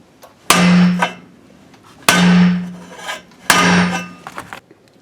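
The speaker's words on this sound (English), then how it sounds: "we're pretty much done hammering away" A hammer strikes a pipe three times to dimple exhaust headers for spark plug clearance, each blow a loud, sharp metallic clang that rings out and decays before the next, spaced about a second and a half apart.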